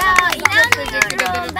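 Applause for Ali at a picnic contest, brief scattered clapping from a small group mixed with lively chatter and voices, close by.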